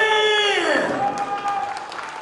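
Audience applause at a professional K-1 kickboxing final, 75 kg class, a short burst of clapping and crowd noise beneath a loud announcer's voice.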